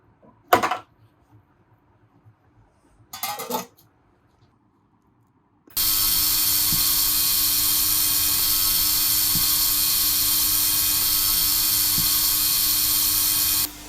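A plate compactor engine, serviced for black smoke and failing to rev, starts after two short bursts and then runs steadily and loudly with a constant high-pitched drone, close by and with no talk over it.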